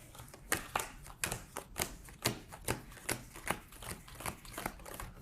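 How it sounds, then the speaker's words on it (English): Playing cards dealt onto a table: a quiet, close, rapid run of light slaps and taps at an even rhythm, with no talking. "I'm just listening to the sound of the cards hitting the table"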